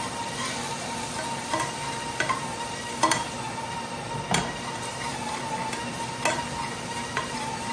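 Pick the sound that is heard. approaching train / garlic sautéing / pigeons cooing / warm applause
garlic sautéing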